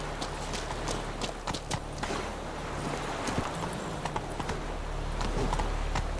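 Hooves of Roach, a horse in The Witcher 3: Wild Hunt, clip-clop steadily in a brisk, even rhythm. The galloping beats stay fairly soft over a low ambient hum, and no voice is heard.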